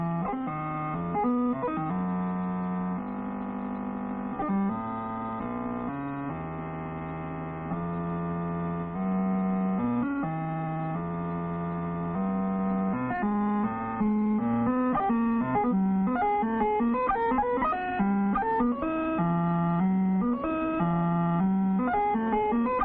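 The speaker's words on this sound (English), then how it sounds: "we will hear sounds which are an actual product of a huge calculator" A huge calculating computer gives off audible frequency signals: a continuous run of electronic tones that step between pitches in a shifting, organ-like pattern, steady and fairly loud throughout.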